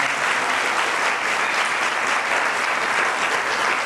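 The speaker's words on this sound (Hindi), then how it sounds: "हम सब लोग ताली बजाते हुए" A parish congregation clapping together at a church feast at St Pius Church, Bachharaon. The applause is even and continuous, dense and fairly loud from start to finish.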